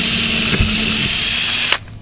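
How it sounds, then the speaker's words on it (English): A power drill with a 1/8 inch bit pre-drills holes in a new boat while installing Power Pole buttons, a loud steady high whine that runs continuously, then stops abruptly near the end. "we're going to take our 1/8 inch drill bit. We're going to pre-drill all the holes"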